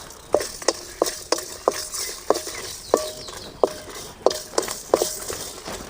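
Dried red chillies dry-roast with rock salt in a pan: sharp, rhythmic scraping and rattling strokes repeat roughly twice a second over a soft background hiss, close and fairly loud.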